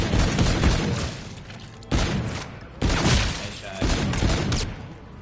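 Gunshots fired at zombies in a zombies-mode video game, four loud bursts of rapid fire separated by short gaps, each decaying into a booming tail.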